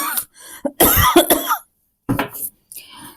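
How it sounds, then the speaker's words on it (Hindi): Several harsh coughs in quick bursts, loud and close, with short pauses between fits. "खांसी हो रही है बहुत"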